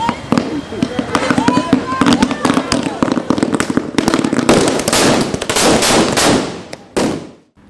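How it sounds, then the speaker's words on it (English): Rapid bursts of firecrackers packed in a thermocol LPG cylinder crackle and pop continuously, loud and close, with voices and crowd noise mixed in before the crackling cuts off. "they also burned a thermocol LPG cylinder filled with firecrackers"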